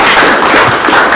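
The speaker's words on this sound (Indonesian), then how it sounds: "Luar biasa, tepuk tangan kita semua." An audience claps together at the close of a tourism lecture in a teaching session, a dense, steady wash of applause filling the short moment with no voices on top.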